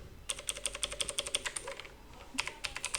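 Rapid, light keystrokes on a computer keyboard type out a web address: a quick burst of crisp clicks, a short pause, then a few more taps, all close and fairly quiet, with no voices.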